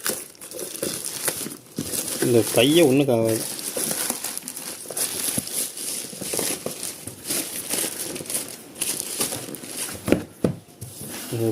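Crinkling and tearing of plastic packaging on an Amazon Basics soundbar, with rustles and crackles close by as a person talks over it in Tamil.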